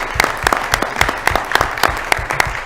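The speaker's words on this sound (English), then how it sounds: "let's give them another round of applause because they're awesome" Applause for teachers at a school board meeting: a smallish audience claps in a loose rhythm, distinct individual claps standing out, fairly close and without talk.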